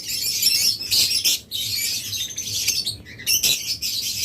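Pairs of opaline budgerigars and lovebirds, including yellow Fischer's lovebirds, kept caged for sale, chirp and squawk close up in dense, overlapping bursts with a few brief pauses.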